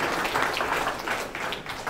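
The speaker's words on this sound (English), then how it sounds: "So let's have a round of applause for our supporters." Meetup audience at a smart home security event giving a round of applause for supporters; a dense, fairly loud patter of clapping hands sustained through the short stretch without talk.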